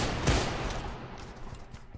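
Gunfire in the video game Deadfall Adventures, aimed at a hanging statue in an Arctic base level: a loud, close burst of shots at the start, then a dense crackling rattle that fades slightly over two seconds.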